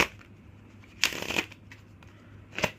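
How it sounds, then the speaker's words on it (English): A new deck of novelty chicken-nugget-themed playing cards being shuffled, with two short riffling bursts separated by a pause, close and fairly loud against quiet surroundings. "Alright, let's try to shuffle."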